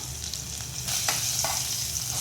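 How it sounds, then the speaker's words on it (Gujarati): Cinnamon, cloves and a piece of star anise frying in hot tempering oil for pakora kadhi, giving a close, steady sizzle with small crackles and stirring, and no talk. "આ તજ લવિંગ છે અને એક ચકરી ફૂલ આવે ને એનો નાનો ટુકડો છે એ આપણે વઘારમાં એડ કરી દેવાનો."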